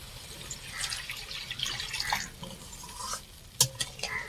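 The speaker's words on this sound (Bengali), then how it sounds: "এবার আমি জল দিয়ে দেবো পরিমাণ মতো জল দিচ্ছি" Water poured into a pan of cooking hilsa curry with brinjal, a soft running splash with faint stirring and clinks, then a sharper clatter near the end, close and moderately quiet.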